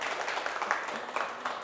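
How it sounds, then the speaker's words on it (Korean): Brief applause from an audience at a talk about Jeju Olle trail walking, a thin scattering of claps that is modest in volume and stays fairly even across the short moment. "박수 쳐주세요."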